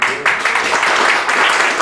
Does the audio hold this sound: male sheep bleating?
no